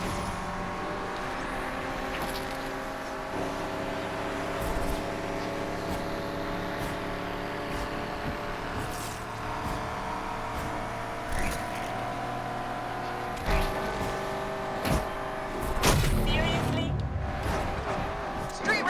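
Race cars in Need for Speed Unbound drone steadily throughout, engines humming with shifting pitch and a few sharper bursts near the end, while someone talks over the top.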